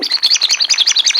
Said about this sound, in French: Ils disent que c'est des bruits d'oiseaux.